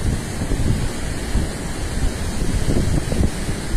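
The Tanaro river flows calmly within its banks beneath the Meyer bridge, heard as a continuous broadband wash of water with gusts of wind buffeting the microphone, and no voices.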